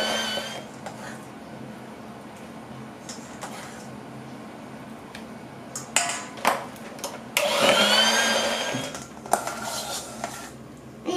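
Electric mixer creaming room-temperature butter with pudding for a chocolate cake, a steady whirring hum with bursts of louder beater clatter against the bowl in the later seconds.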